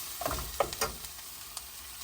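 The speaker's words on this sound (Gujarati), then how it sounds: "તો આપણે હવે પાછું આ બધું સરસ રીતે મિક્સ કરીશું" Farali pasta is mixed with cream cheese and regular cheese in a pan, giving a soft, close sizzle with a few brief scraping and stirring knocks, faint overall and with no talking.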